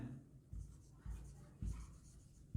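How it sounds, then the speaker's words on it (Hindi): Pen scratching on paper in short bursts as a teacher writes out accounting entries, soft and close, with several distinct strokes separated by brief pauses. "लिखते हैं"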